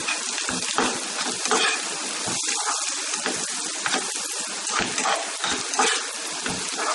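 Coriander powder and turmeric frying in oil in a pan while prawns are being prepared, a steady crackling sizzle that continues throughout with small bubbling pops, close and alone.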